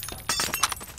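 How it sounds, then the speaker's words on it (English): Glass shattering in the video game Garry's Mod Prop Hunt, a short burst of bright crashing and tinkling shards that spreads over about a second, fairly loud with no talk over it. "Oh, I hear glass breaking."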